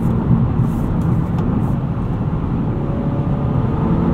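A 2019 Honda Accord 2.0T Sport with a six-speed manual gearbox accelerates hard, its engine droning as a steady, loud, broadband roar from inside the cabin with no voices.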